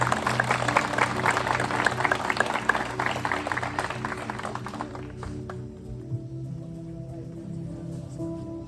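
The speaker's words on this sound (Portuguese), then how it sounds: "Vamos aplaudir, vamos aplaudir." Guests at a wedding ceremony applaud in a steady patter of clapping that fades after about five seconds, leaving a quieter room with low background hum.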